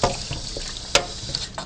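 Cold tap water splashes into a kitchen sink while butter is washed at home, a close, irregular watery hiss broken by a few sharper splashes.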